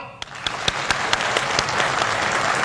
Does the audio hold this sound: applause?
yes